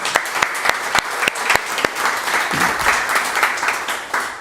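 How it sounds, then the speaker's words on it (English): Audience at a PHP meetup breaking into applause, a dense burst of many hands clapping with sharp individual claps standing out, steady and fairly loud throughout. "so a big round of applause to her."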